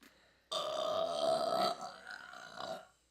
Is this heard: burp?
yes